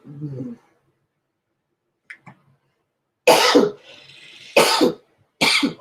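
A few sharp coughs in quick succession after a short vocal sound and a pause, loud and close.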